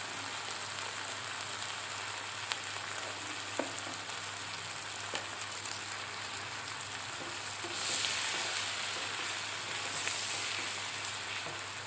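Tomatoes frying in a pan with turmeric for an okra and tomato fry, giving a steady soft sizzle throughout with a few light clinks, the hiss growing brighter near the end.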